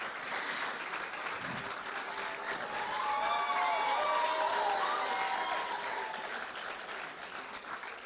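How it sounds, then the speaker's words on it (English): A room full of people applauds at a startup cohort demo day, steady dense clapping that swells in the middle with a faint cheer, alone without speech. "Let's give a round of applause to Migs one more time."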